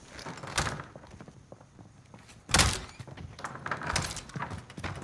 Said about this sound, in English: I thought I heard the door open.